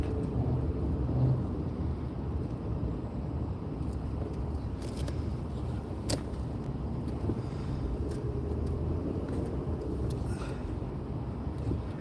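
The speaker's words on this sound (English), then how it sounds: "I'm in 1 or 2 mile an hour traffic trying to get up to my next freeway" Slow-moving freeway traffic at one or two miles an hour, heard as a steady low rumble of engines and road noise with occasional faint clicks. No voices.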